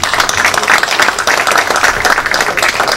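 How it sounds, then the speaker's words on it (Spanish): Loud, dense applause fills the room at an award ceremony honoring engineers for 25 years of service, a steady crackle of many hands clapping throughout. "Fuertes aplausos también para ella"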